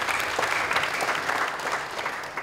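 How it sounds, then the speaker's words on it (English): Audience at a foundation's tenth anniversary event applauding a performer, a dense, steady wash of many hands clapping, fairly close and sustained throughout without any talking. "Can we just applaud Nav"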